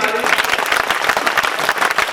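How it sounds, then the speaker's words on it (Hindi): Loud, dense applause from a crowd gathered at a live Shrimad Bhagavat Katha religious discourse, a steady wash of many hands clapping close by with no voices over it. "जोरदार ताली"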